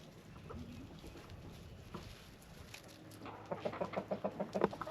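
Several chickens kept at a home coop cluck in a quick series of short rhythmic calls that swell toward the end, over soft ambient farmyard noise.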